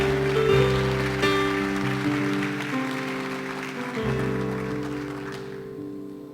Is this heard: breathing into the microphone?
no